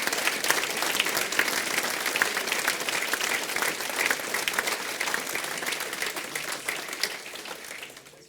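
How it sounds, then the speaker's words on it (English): A room full of people gives a round of applause for Mike, steady dense clapping that holds strong for several seconds before tapering slightly at the close. "Can I ask you all just to give Mike a quick round of applause for appreciation?"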